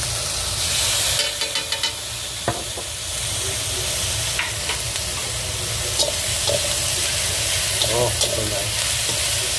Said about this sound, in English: I always let the soy sauce be fried to give a little bit of the xiang xiang味.